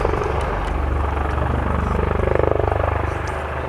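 Leonardo Wildcat HMA-2 helicopters of the Royal Navy display team running in at an air show, a loud steady rotor thrum with pulsing blade slap that grows more pronounced as they pass close by.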